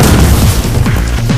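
Grenade blasts in a chaotic shooter video game, a loud, dense run of booming explosions layered over a steady rumbling game soundtrack with no talking.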